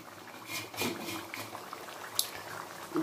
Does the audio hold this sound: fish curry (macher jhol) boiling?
yes